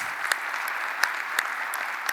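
A church congregation applauds during a sermon, steady dense clapping from a crowd with a few sharper claps standing out.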